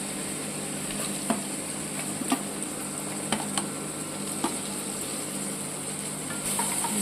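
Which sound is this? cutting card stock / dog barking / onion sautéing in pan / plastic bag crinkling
onion sautéing in pan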